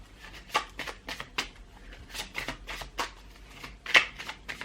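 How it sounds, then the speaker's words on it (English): Tarot cards being shuffled in repeated riffling bursts, a brisk papery rhythm of close, moderately loud flicks with one sharper snap near the end, no talk. "These cards need a lot of shuffling."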